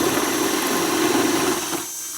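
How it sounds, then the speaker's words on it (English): A power drill with a hole saw cuts into a ceiling, grinding steadily at close range for about two seconds, then cuts out, leaving a quieter hiss. "So I'm just going to start drilling."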